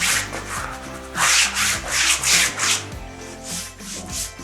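A hand presses and rubs along the edge of freshly hung wallpaper, giving close, repeated scraping swishes in an uneven rhythm.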